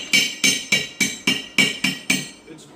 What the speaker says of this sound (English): When you go to break that flux off on this rod